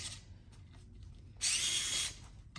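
An electric screwdriver briefly whirs as it drives a screw into a tight hole on an Auromie corner desk, a single short burst amid quiet handling noise.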